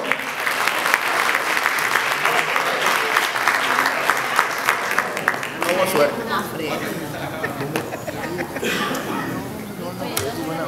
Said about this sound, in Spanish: Un fuerte aplauso y la foto.